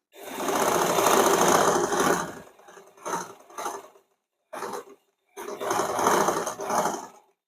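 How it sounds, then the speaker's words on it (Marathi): An electric sewing machine double-stitching the front of a blouse, fast close bursts of whirring stitches broken by short pauses and brief restarts. "परत आपल्याला डबल शिलाई मारून घ्यायची"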